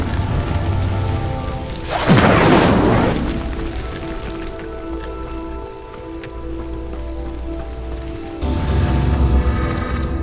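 An Incendio fire spell whooshes up loud in a video game, a bright roaring burst of flame lighting a pyre, then settles into a steady crackling burn before a second swell rises near the end.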